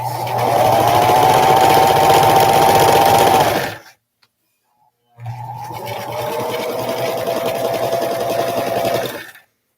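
Sewing machine stitching quilt fabric in a small home sewing room: a loud, steady whirring run of about four seconds, a brief pause, then a second long run of stitching.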